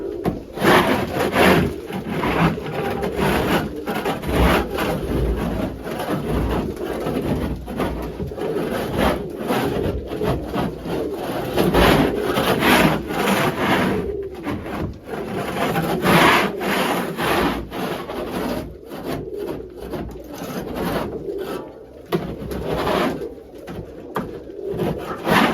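A big scraper rasps across the floor of a bird coop in a fast, continuous run of gritty strokes, loud and close, while pigeons or doves coo in the background.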